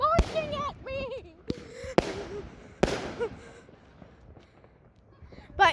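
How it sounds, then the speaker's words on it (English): Fireworks launch at a fireworks show, with sharp pops and bursts at close range and whistling, crackling trails, while people shout and talk excitedly between the blasts. "that was another part of the fireworks show"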